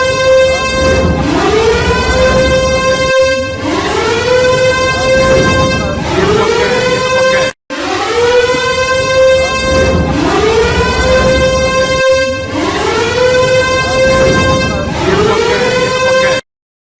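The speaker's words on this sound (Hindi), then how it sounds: "रात में वहां मिसाइलें दिखी हैं और सायरन की आवाज सुनाई दी है पाकिस्तान में।" Air raid sirens sounding at night in Sialkot, Pakistan: a loud, continuous wailing tone that repeatedly rises and holds in long cycles, briefly cut off midway, with no voices over it.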